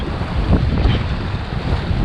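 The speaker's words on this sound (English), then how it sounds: "Oh, these waves are pushing me around." Rushing river rapids churn and slap around an inflatable kayak on the Rio Grande Racecourse, a loud, continuous roar of turbulent water with wind buffeting the microphone and no talking.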